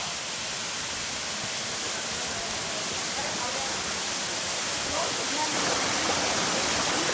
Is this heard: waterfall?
yes